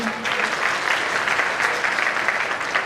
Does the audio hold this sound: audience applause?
yes